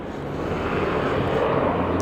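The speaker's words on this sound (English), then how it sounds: "sorry for the helicopter in the background" A helicopter drones steadily in the background, a continuous broad engine and rotor rumble holding at an even, fairly loud level throughout with no talk over it.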